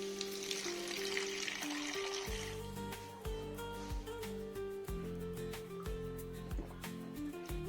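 Gobi manchurian sauce with water sizzles and bubbles in a pan with a steady frying hiss, heard beneath background music, close and continuous.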